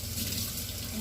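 Tap water runs steadily into a kitchen sink as a dropped cake-making part is rinsed, a continuous close hiss and splash lasting about a second.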